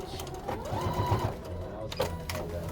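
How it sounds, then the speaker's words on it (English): A sewing machine stitches fabric for a reversible door bow. A short back stitch is part of the run, which comes in bursts of close, rattling stitching, with a brief tonal whir in the middle and a few clicks. "I'm gonna take a few more and then back stitch,"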